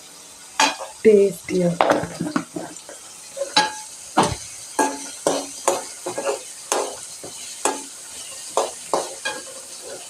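Cashews frying in a pan for paneer butter masala, stirred with a utensil in repeated scraping clatters against the metal over a soft sizzle, close and fairly loud, with a brief word spoken.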